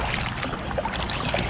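A loaded Sea Eagle Razorlite inflatable kayak is paddled on the North Branch of the Susquehanna River, giving a brief wash of water swishing and soft splashes against a breezy outdoor background.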